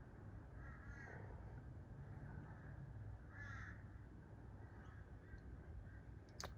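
Crows caw outdoors in a few separate, distant harsh calls over a steady rush of wind or background noise, with no one speaking.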